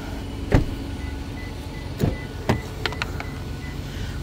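Toyota Tundra power sunshade and panoramic moonroof motors running in a low steady whir inside the cab, with several sharp clicks and clunks as the panels move and stop.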